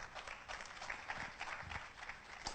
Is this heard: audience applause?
yes